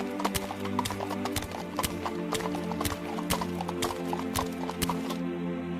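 Donkey hooves clip-clop steadily in a story about a Samaritan carrying an injured man to an inn, a sharp, regular run of close hoof strikes over a background music bed.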